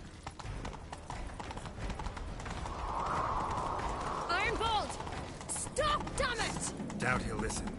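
Horse hooves clip-clop at a gallop in Witcher 3 during a chase, a steady rhythmic patter under game music, with voices speaking over it.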